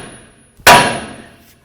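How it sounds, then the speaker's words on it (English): A single sharp metallic strike of a small hammer on the steering knuckle of a 2007-14 Cadillac Escalade to pop the front lower ball joint loose, loud and close with a brief ringing decay. "take your nice little hammer, and we're going to bonk right here on the knuckle itself"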